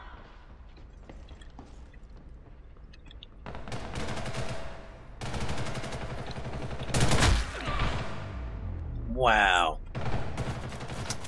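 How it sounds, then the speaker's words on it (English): Submachine gun fire in the video game Ghost in the Shell: First Assault rattles in rapid bursts over a low background, mixed with other gunfire, mechanical clatter and a whooshing effect, while a player reacts briefly. "That's a submachine gun."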